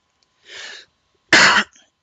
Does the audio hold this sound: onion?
no